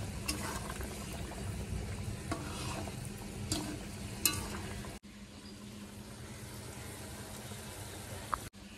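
Koi fish simmering in curry gravy with potato and pointed gourd in a home kitchen, a steady soft bubbling and faint sizzle with occasional stirring clinks, close and moderately quiet, no talk.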